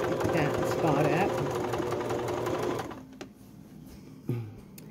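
A sewing machine stitches a raw-edged baby quilt in a steady, close run that stops partway through, followed by quieter handling, with a voice talking over the stitching.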